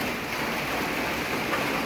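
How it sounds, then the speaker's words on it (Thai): Rain falling in the Lao countryside, a dense even patter of drops, steady and fairly close with no voices. "ฝนตกอากาศชุ่มชื่น"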